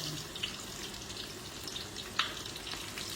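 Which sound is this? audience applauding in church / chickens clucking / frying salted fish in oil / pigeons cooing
frying salted fish in oil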